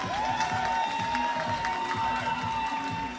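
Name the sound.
applause from an audience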